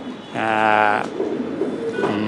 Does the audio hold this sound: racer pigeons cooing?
yes